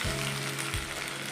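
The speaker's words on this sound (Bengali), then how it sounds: "পটল আর আলুটা অনেকটা ভাজা ভাজা হয়ে গেছে" Pointed gourd and potato pieces frying in a pan give a steady, close sizzle with a faint stir or two, with no talk over it.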